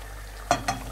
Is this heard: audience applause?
no